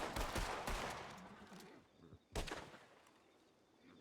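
Gunshots in a Red Dead Redemption 2 roleplay duel: a burst of sharp cracks at the start, then a second loud shot around two seconds later with fading reverb.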